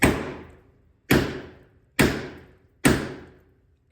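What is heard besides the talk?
hammering a bolt to knock out a VW Beetle door hinge pin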